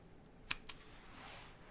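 Two quick, faint key clicks on a Bluetooth keyboard being paired with a Sony Google TV, sounding close together in a quiet room, followed by soft background hiss.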